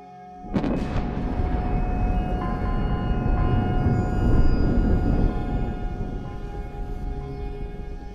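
A sudden loud volcanic explosion followed by a sustained, deep rumbling roar that swells and lingers for several seconds, with no voices.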